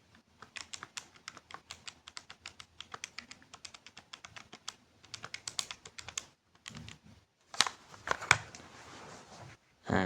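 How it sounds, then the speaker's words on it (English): Fingers tapping calculator keys in quick, steady runs of light clicks, then short pauses and a few louder presses near the end. Close and quiet, with no talking. "go ahead and type this into your calculator"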